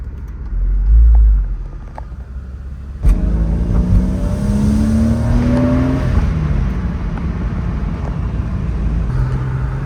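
Engine of a 2001 Porsche Boxster 986 driving with the top down, a steady loud rumble that rises in pitch as it accelerates through the gears, heard close up with wind and road noise.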